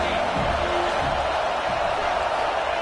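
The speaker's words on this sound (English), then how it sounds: "This crowd bringing the energy and noise early." A football stadium crowd roars continuously in a dense, loud wash of cheering and noise that fills the whole stretch.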